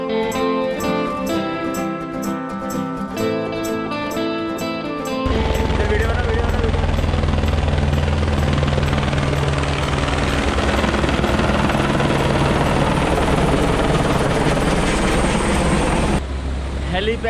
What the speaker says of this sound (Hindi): हेलीकॉप्टर गया बिल्कुल अभी अभी हमारे सामने